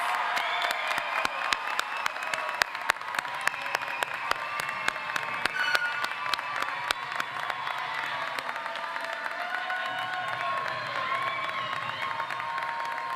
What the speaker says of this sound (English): Families, please give them a round of applause.